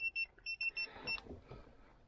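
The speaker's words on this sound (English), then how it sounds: "And this thing's already beeping at me." A quick series of short electronic beeps, about six in a row, faint and steady, from a tire pressure monitor in a turbocharged Toyota Corolla, followed by low rumbling noise inside the car.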